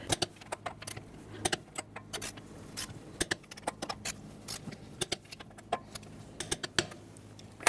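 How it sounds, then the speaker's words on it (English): Quiet metallic clicks and clatters from a 19mm socket on a torque wrench tightening front wheel lug nuts on a 2000-2007 Ford Taurus, irregular sharp ticks in a garage with no talk. "Using a 19mm socket, we're going to torque our wheels to 95 foot-pounds."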